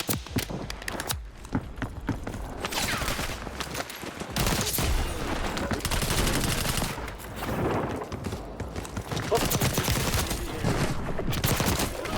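Close-quarters gunfight in the video game Warzone: bursts of rapid gunfire and single shots crackle through dense game audio, with footsteps and clatter between volleys.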